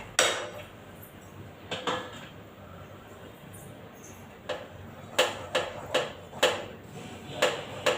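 A utensil stirs thickening mango halwa in a pan, making scattered metallic clinks and scrapes, some sharper and closer together toward the end, over a quiet kitchen background.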